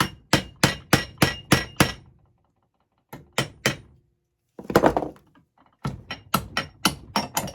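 Rapid bursts of sharp hammer blows strike copper heatsinks, coming in quick runs of four to eight hits separated by short pauses, close and loud with a metallic thunk.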